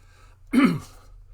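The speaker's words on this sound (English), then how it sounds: "So I may have to clear my throat a bit." A single short throat clearing, close and clear, against a quiet background hum.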